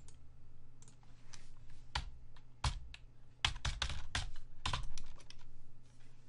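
Someone types on a computer keyboard, entering a value during software setup. The keystrokes are close, sharp and irregular, with quick bursts of clicks and short pauses and no voices.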